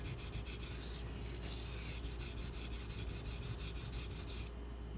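Benchmade Mini Crooked River knife edge ground on a sharpener, a steady continuous rasping scrape with rhythmic stroke pulses, close and fairly loud, no voices.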